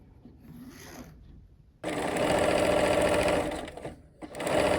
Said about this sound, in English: we'll be sewing 1/4 inch on both sides of the line